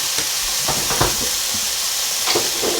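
Plant-based Impossible meat dropped into a hot pan for a vegan vegetable soup, giving a constant loud sizzle and hiss broken by a few scraping stirs and clatters, with no speech.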